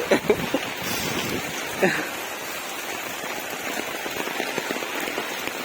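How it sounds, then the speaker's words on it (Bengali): Heavy rain falls steadily outdoors, a continuous moderate patter and hiss on surfaces, with a few brief louder splashes early on and faint voices mixed in. "সকাল থেকেই প্রচন্ড হারে বৃষ্টি চলছে"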